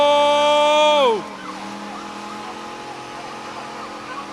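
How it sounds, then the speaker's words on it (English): Two Ford Crown Victoria cars doing burnouts at a test-and-tune event: loud engines scream at a high, steady pitch, then drop off sharply into a rough, lingering roar, with a voice shouting briefly. "Dual Crown Vic burnouts"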